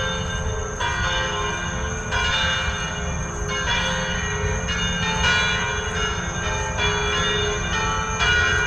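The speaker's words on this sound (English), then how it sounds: "I guess every hour it chimes, and it actually chimes" A bell tower at a memorial garden in Trinity, Florida chimes steadily, its ringing tones sustained and overlapping over a constant loud background hum, with no voices.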